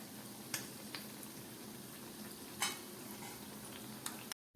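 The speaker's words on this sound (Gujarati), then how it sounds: "અને આપણે તળાવા દેવાના છે" Potato smileys fry in oil over a medium-to-low flame, giving a soft, steady sizzle with a few sharp crackles and pops spread through it.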